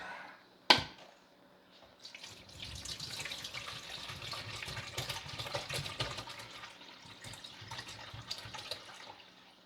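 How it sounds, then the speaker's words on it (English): Water pours into an AeroGarden after a sharp click, a soft, irregular trickling and splashing that builds and continues steadily at close range. "Add water."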